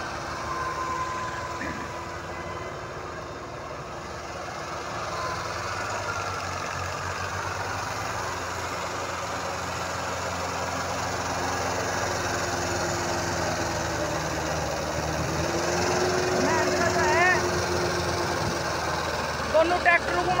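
A Mahindra 585 and a Sonalika 60 tractor run together in an outdoor pulling contest, with a continuous loud diesel engine drone throughout and a rising strain near the end, while people talk under it.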